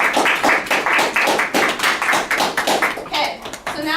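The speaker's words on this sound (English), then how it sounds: "Everyone give Nathan a round of applause for volunteering." An audience claps for a volunteer, a close, lively patter of many hands that keeps going for several seconds, with a voice talking briefly near the end.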